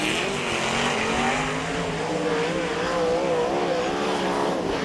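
Sprint cars race around Charlton Raceway speedway at a 2005/06 World Series Sprintcars meeting, engines roaring loud and steady throughout with rising and falling pitch and tyre noise as the cars circle the track.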